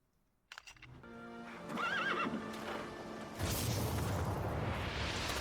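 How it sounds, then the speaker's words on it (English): A horse in the video game Castlevania Lords of Shadow gives a loud, close whinny that rises and falls. Hooves and a rushing swoosh follow, building into a dense, noisy clatter. "horse stock sound that we just heard is exactly the same horse stock sound that we have on the horse in Metal Gear Solid 5"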